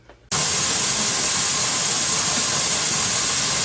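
After a brief quiet start, a pressure canner used for re-canning hominy abruptly vents a loud, steady, unbroken hiss of steam through its vent pipe, close and constant with no pauses.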